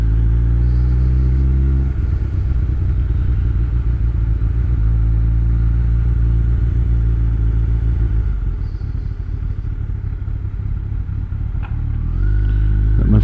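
A heavy lorry rumbles past on a road, its engine a deep, loud, continuous drone that stays close for most of the pass before the note shifts near the end.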